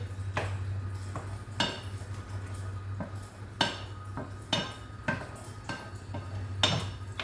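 Mushroom sauce being stirred in a cooking pan: a spoon scrapes and taps the pan in irregular strokes every second or so over a steady low hum, moderately quiet with no talking.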